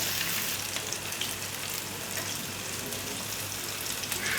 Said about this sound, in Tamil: இப்போ பாயில் நல்லா ஃப்ரை ஆகிடுச்சு ஃப்ரெண்ட்ஸ்